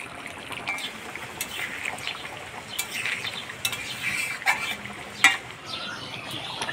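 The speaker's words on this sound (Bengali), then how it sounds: "এবার গরম মশলার গুঁড়া দিয়ে নাড়াচাড়া করে নামাই দিই" A spoon stirs chicken curry with garam masala powder in a pot, giving soft scraping and light clinks against the metal over a faint sizzle, with a sharper knock near the end.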